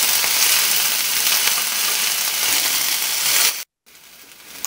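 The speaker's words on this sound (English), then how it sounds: "we've done our 5 minutes of sauteing our onions" Onions sautéing in a pan give off a continuous loud, close hiss for several seconds, then cut out abruptly to silence before a softer sizzle returns.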